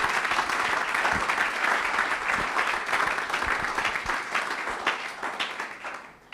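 A church congregation at a Sunday service applauds to acclaim the Lord, with dense sustained clapping from many hands that carries on steadily and then fades toward the end.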